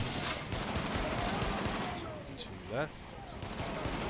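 Rapid gunfire from a firefight in The Division, set in a subway morgue, rattles continuously under a voice, with a dense, steady barrage and a brief lull near the end.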